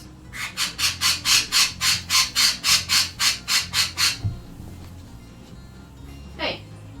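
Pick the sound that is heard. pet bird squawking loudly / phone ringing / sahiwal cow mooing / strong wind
pet bird squawking loudly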